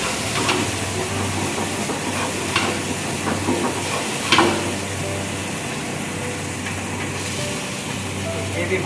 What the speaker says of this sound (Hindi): अभी मैं व्हाइट ग्रेवी को ऐड कर लेता हूँ।